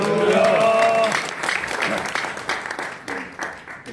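A church congregation breaks into loud applause welcoming the pastor to the pulpit, a dense wash of clapping that begins over a fading musical tone and thins gradually over four seconds.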